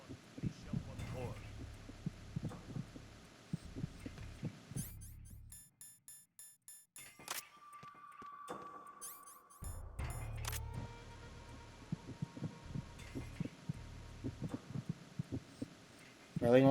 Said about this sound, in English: Really normal sounding heartbeats from these guys.